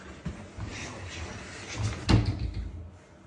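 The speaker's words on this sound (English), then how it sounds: "this man was banged in the face by a cabinet door" A cabinet door bangs into a man's face, with a sharp knock near the two-second mark under voices and a few lighter thumps around it, all fairly quiet.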